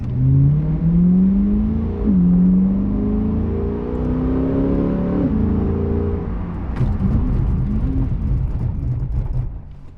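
A Chevrolet C8 Corvette accelerates hard during a brake pad bed-in run, the engine note rising through several gear shifts up close, then settling into a rumbling slowdown.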